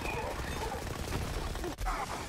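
Dense automatic gunfire and explosive bursts from Borderlands 3 combat, a steady rattling barrage running throughout with a brief dip near the end, a voice faintly mixed in.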